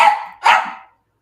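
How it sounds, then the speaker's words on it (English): A dog gives two loud, close barks in quick succession, the second slightly longer and trailing off, followed by silence. "Dog's barking."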